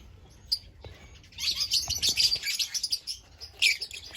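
Breeding parent birds carrying the split violet mutation chirp and tweet in quick bursts, close and fairly loud, with brief quiet gaps and a few clicks.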